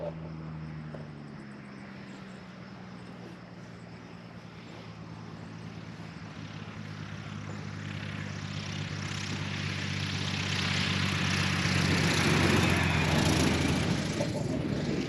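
A propeller plane's engine drones steadily, growing gradually louder as it arrives at a grass airstrip fly-in, with a low, continuous hum throughout.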